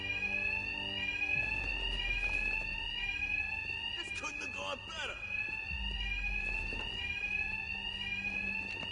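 Batman: Arkham Knight fire alarm blares as a constant shrill electronic ring, loud and steady throughout, while a voice briefly speaks over it and a short burst of scuffling noise cuts in midway.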